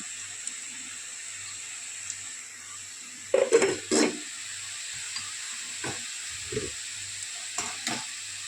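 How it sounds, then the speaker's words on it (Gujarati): Drops of gundi (boondi) batter fry in hot oil, making a quiet, steady sizzle with a few short bursts of bubbling and clinks near the middle. "આપણે આ રીતે સરસ મજાની તળી લેવાની છે"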